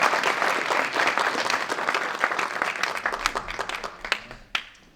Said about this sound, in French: On applaudit Jean-Philippe Dugouet, Clément